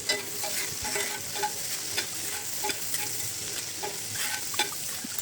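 Onions and green chillies fry in a pan, making a close, continuous sizzle broken by frequent scraping stirs and small crackles throughout.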